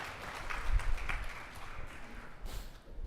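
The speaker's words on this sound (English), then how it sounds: "And it's okay to clap" Guests at a fundraiser breakfast for Nourish Phoenix applaud, a moderate, continuous patter of many hands clapping that swells briefly near the end.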